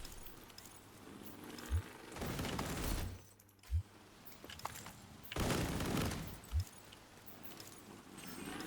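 Gunfire in a shooter video game comes as two main bursts of rapid shots, each lasting about a second, with a few single low thuds between them, all fairly faint over a quiet background.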